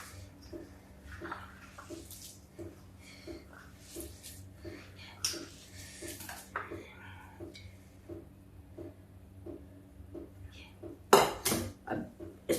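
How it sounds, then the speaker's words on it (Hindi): Vegetables being mixed with gram flour in a bowl, a run of regular soft scraping and clinking strokes against the bowl, close and quiet, ending in louder clattering. "ये देखिए, ऐसे इसको मिक्स करते जाएंगे।"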